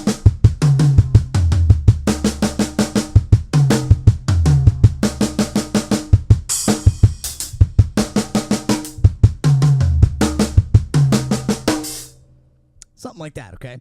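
A loud drum groove with kick, snare and tom hits moving around the kit in quick rhythmic bursts, ending with a crash and fading.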